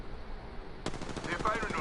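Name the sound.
gunfire at the player in the video game Apex Legends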